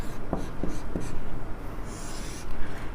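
Close, scratchy writing strokes from notes being written during a lecture on dense regular connective tissue: three short bursts early on, then softer continuous rubbing, with no voice over it.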